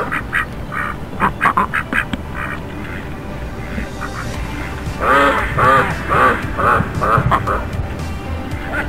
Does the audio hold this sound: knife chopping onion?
no